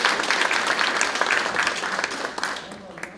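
An audience at a policy forum on fishing boat safety gives a guest a brief round of applause, dense clapping that thins and fades toward the end, with some voices mixed in.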